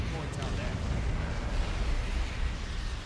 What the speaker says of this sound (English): It's going to get a Manticore strike in its face.